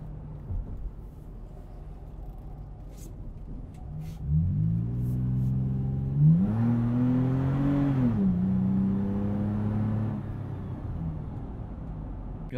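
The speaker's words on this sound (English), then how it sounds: "Let's talk a bit about that exhaust. Just listen as I take off from this corner." A 2020 Toyota 4Runner pulls away from a corner, its exhaust building from idle into a rising, droning engine note that climbs and holds, then eases back to a steady low rumble.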